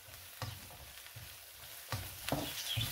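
Vegetables fry in a small amount of oil for chow mein, a quiet sizzle broken by several bursts of stirring and scraping in the pan.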